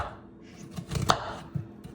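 A knife slicing apple pieces for a simple seasonal apple pie: a few soft, close cuts in quick succession, with no voices.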